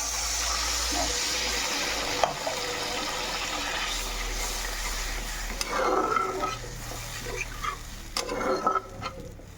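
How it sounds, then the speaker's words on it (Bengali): Prawn curry gravy with water just added to fried spices, simmering in a pot with a continuous bubbling hiss and a few louder stirring clatters toward the end. "একদম ঝোলে টকবক করে ফুটতে শুরু করছে ঝোলটা"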